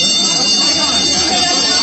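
A change bell clangs as a sound effect in a vintage science fiction radio drama, giving a loud, sustained metallic ringing that holds throughout.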